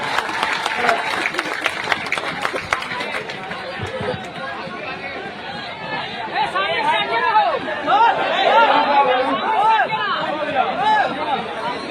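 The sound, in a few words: crowd applauding at a political gathering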